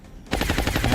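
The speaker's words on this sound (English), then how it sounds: "I'm gonna shoot once here, and then it's hit and run, and I'll reload the reflex rifle" A single reflex rifle shot in the XCOM video game, a sudden loud burst with a ragged, rattling tail that follows a brief quiet lead-in.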